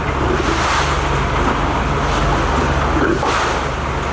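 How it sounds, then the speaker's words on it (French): Steady rushing of water and a cargo ship's wake waves against a boat hull in the Strait of Gibraltar, with low engine rumble and wind noise throughout, loud and continuous. "Les vagues de cargo."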